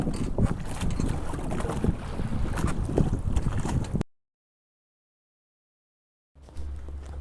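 A sailing boat at sea near the Isle of Bréhat, off Brittany, brings a continuous rush of wind and water against the hull, broken by a gap of silence before the noise picks up again.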